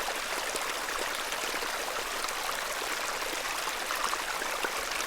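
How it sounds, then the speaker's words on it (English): A babbling beck in the point-and-click horror game The Excavation of Hob's Barrow, its steady close rush of trickling water running alone without pause. "This is a lovely little beck."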